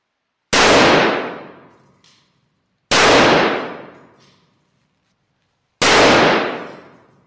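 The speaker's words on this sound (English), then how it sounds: "Now let's add some more shots." Three loud, separate gunshots striking a lightweight armor plate, each a sharp metallic crack with a long ringing decay, spaced a few seconds apart with silence between them.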